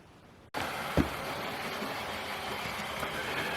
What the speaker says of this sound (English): here's our locomotive pulling a passenger train